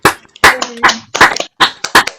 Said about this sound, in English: Please, everyone, go off mute, and give a round of applause.